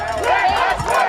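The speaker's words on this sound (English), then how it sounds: "Angry crowds gathered" Angry protest crowd massed outside a state capitol, a dense roar of many voices shouting together in a brief, continuous swell.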